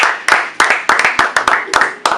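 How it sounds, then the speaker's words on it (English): A small group clapping in a basement radio studio, sharp, loud, close claps in an uneven rhythm of about a dozen strikes, with bright room echo after each. "Clap it up, guys."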